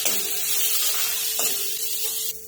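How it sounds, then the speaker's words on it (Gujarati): A spoon scrapes and stirs through spices and garam masala frying in a pan for dal fry, with a steady sizzle and a few scraping strokes close by. "હવે આ બધું મિક્સ કરી લઈશું આપણે"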